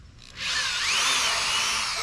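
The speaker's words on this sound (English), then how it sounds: "Now we're going to use a 5/16 drill bit to drill out this portion." A power drill fitted with a 5/16 bit drills out wood on a knife tang, spinning up after a quiet start into a loud, sustained close whine that holds steady to the end, with no talking.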